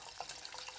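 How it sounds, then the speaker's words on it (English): Boiled hot water poured from a vessel into a pot for homemade chai, a brief quiet splashing stream heard close by. "I have already boiled this water, so it's pretty hot. I'm putting it in"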